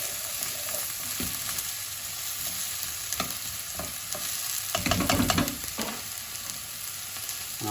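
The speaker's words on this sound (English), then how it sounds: "the cloves of garlic in at this stage because I do want to fry them up with the onions" Garlic cloves and onions fry in olive oil for ratatouille, a steady close sizzle with occasional stirring scrapes and clacks of a spoon in the pan, growing briefly louder midway, with no talking.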